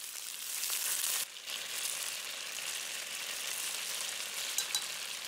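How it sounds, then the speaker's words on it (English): Tofu fries in oil in a wok for shrimp pad Thai, giving a soft, even sizzling hiss heard alone at a low level, with a brief dip partway through. "Add some more oil into the wok. And add the tofu into fry."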